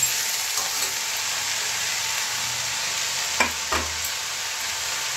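Spinach added to a hot pan for a home-cooked moong dal dish sizzles steadily with a broad hiss, punctuated by a few soft stirring scrapes and taps of the spoon.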